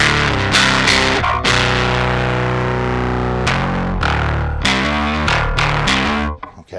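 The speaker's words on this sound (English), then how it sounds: "blow your face off distortion" Bass guitar driven through a Scrambler Bass Overdrive pedal set for heavy, face-melting distortion, playing loud sustained fuzzy notes and chords with short rests, then choking off into silence at the end.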